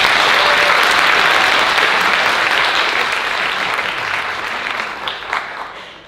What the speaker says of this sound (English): could we all give a round of applause to some of my classmates?